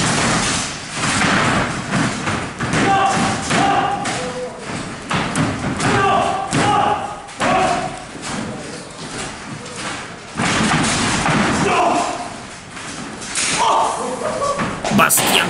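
Repeated heavy thuds and slaps of bodies striking, with crowd noise and a commentator talking over the action.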